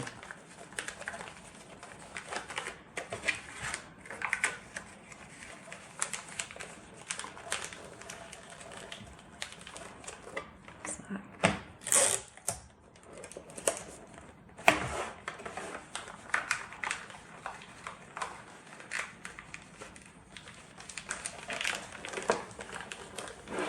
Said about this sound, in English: And then you can just finish wrapping your parcel in the usual way.